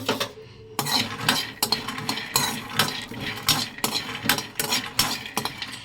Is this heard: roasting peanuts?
yes